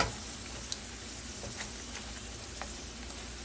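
Homemade French fries sizzling steadily in hot oil on a stove set to high, a dense close crackle with a few small pops and clicks as the pieces get flipped.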